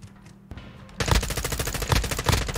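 An M4 firing in Call of Duty: Modern Warfare 2, a couple of quiet clicks and then a sudden loud, rapid burst of automatic gunfire that continues for over a second and a half, close and without talk.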